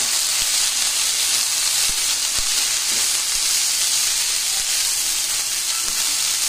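Restaurant-style vegetable fried rice with pepper, salt and soy sauce is stir-fried in a hot pan, making a loud, unbroken hiss of sizzling with a few soft knocks from the utensil, and no speech.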